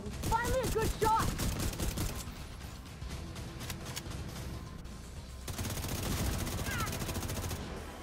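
Sustained rapid gunfire from The Division 2 video game, a boss fight against Vivian Conley in Warlords of New York, rattles on close and loud throughout with a few chirping effects, with no pause in the shooting.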